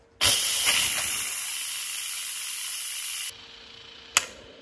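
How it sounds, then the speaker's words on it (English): An Instant Pot quick-release valve vents steam in a loud, steady hiss that starts abruptly, holds for about three seconds and then cuts off, followed by a lower residual hiss and a single short click near the end. "It's gonna release all the pressure from inside, all the steam."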